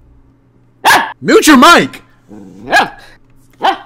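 A dog barking near a microphone in a few loud, harsh bursts with short gaps between them, mixed with a person shouting.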